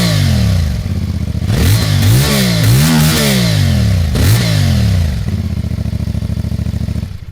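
A 2024 CFMOTO 450MT motorcycle engine, a 400 to 500cc bike with a deep exhaust note, idles loudly up close, then blips through several sharp revs and drops back to a steady idle before cutting off.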